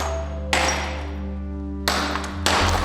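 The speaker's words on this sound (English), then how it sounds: "We break the glass up with a hammer" A hammer striking chunks of cold glass, three sharp cracking hits spaced about a second apart over a steady low hum, close and loud, with no talking.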